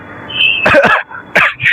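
A man coughs in several harsh bursts at close range, with short pauses between the coughs and no talk over them.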